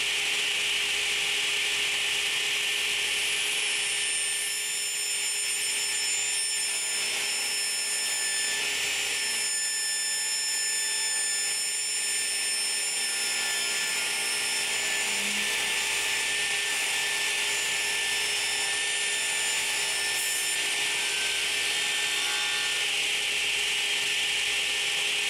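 A radial arm saw slices through a wood board about 3/4 inch thick, its steady motor whine and blade hum running loud and unbroken from start to finish with no voices.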